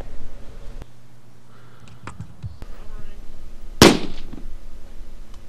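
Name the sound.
unsuppressed .308 bolt-action rifle gunshot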